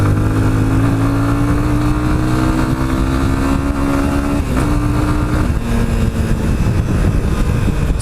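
A Yamaha Fazer 25 motorcycle engine drones loudly on a test ride, its pitch sliding slowly downward as the rider eases off under engine braking, with steady wind roar and no speech.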